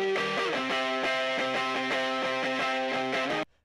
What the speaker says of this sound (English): It's just adding like octave guitars.